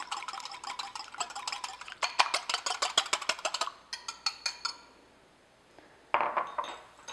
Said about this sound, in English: And then I have one large egg, and I'm just going to lightly whisk this to break it up.